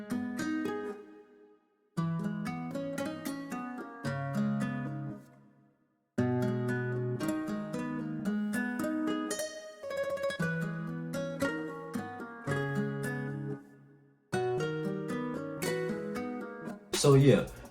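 Layered guitar-style RnB melodies panned hard left and right with a short Haas-effect delay play as plucked chord phrases in repeating bars, separated by brief gaps, with no talking over them.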